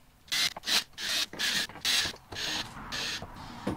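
Small screws being backed out and removed with a small driver bit during a battery replacement on a B10/B10X unit: a series of close, bright ratcheting bursts, about six or seven in a row with short gaps between them.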